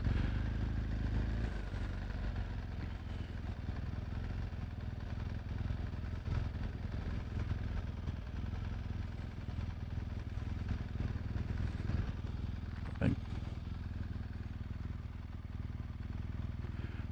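A motorcycle cruising along the Cape Peninsula loop road near Cape Town, its engine a steady low drone under constant wind rush, with one brief sharp clack midway and no talk.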